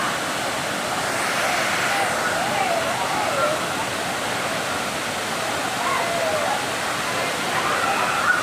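Panchalinga waterfall pouring and splashing steadily as water spills from crevices in the rock, a loud continuous broadband rush with no pauses throughout.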